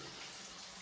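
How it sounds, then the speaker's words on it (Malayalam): Water runs steadily from a cleaning device into a bucket, a continuous close splashing rush with no talk over it. "വെള്ളം വരുന്നുണ്ട്."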